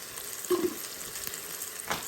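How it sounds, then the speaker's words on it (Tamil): Mutton biryani masala with yogurt sizzles in an Instant Pot while being stirred, giving soft continuous frying crackle with a few scraping stir sounds close by. "இப்போ எல்லாத்தையும் போட்டு கலக்கணும்."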